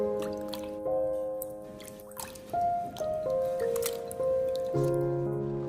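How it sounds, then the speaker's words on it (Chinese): Chunks of pork are washed by hand in a bowl of clean water, making close, wet squishing, sloshing and dripping sounds in irregular bursts over soft background music. "用清水把猪肉清洗干净"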